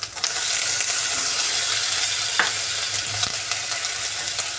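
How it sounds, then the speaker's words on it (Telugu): Thin-sliced tomato dropped into a pan of frying pasta, setting off a loud, steady sizzle with occasional stirring scrapes over the continuous hiss. "అలాగే సన్నగా కట్ చేసిన టమాటా ఒకటి వేసుకుంటున్నాను."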